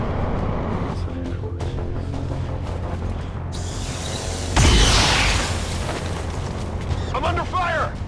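Gunfire and explosions from the video game XCOM 2 crack and boom through the mix, with a heavy blast near the middle and scattered shots around it, while a voice talks over the action.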